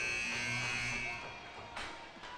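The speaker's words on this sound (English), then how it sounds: "1 second left, and that's the buzzer." A period-end buzzer sounds in an ice hockey arena, the Iceplex in Escondido, at a San Diego Skates versus NorCal Ice Raiders game. It is a loud, sustained electronic drone over arena noise, with a brief later swell.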